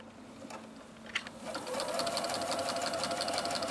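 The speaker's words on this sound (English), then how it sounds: "so we're going to sew to the chalk line." Sewing machine fitted with a walking foot stitching quilt binding, a soft steady mechanical whir starting up after a brief quiet moment and running continuously close by.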